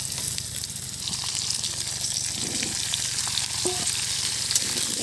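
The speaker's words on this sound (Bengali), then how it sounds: "এবার আলু আর পেঁপে মিশিয়ে কিছুক্ষণ ভেজে নেব।" Potatoes and papaya fry together in a pan for a Bengali curry, giving a loud, steady sizzle with light stirring scrapes throughout and no voices.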